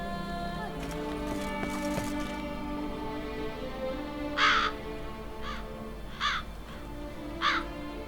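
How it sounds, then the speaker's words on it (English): Crow cawing in The Witcher 3: Wild Hunt, Blood and Wine game: three or four harsh caws spaced a second or so apart over droning music, fairly close and moderately loud. "Crow."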